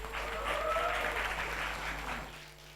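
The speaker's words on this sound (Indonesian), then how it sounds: "Tepuk tangan yang meriah." Audience applause at a school arts performance, a dense steady wash of many hands clapping that fades slightly toward the end, with no voices over it.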